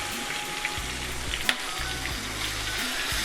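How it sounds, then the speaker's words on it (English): Onion paste and ginger-garlic paste fry in a pan, giving a steady close sizzle with a few soft stirring scrapes and one brief clack partway through. "So we're going to fry this until it's really nice and fragrant."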